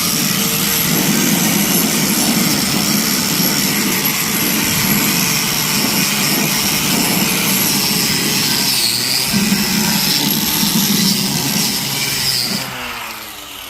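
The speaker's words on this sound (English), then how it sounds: "So just take your wire wheel and just eat it up" A wire wheel scrubs rust scale off a brake part, a loud continuous grinding whir that holds steady for over twelve seconds before winding down at the end.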